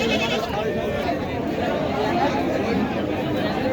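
Beetal goats bleat amid a noisy crowd at the Baneshwar goat market, with continuous chatter and bargaining voices over dense livestock calls.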